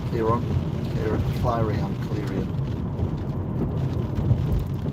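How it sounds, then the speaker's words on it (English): Heavy rain drums steadily on a car driving at night through Stalybridge toward Wigan during a storm front, a constant dense wash with wind noise and low road rumble, and bursts of muffled talk over it. "This rain is a lot heavier here."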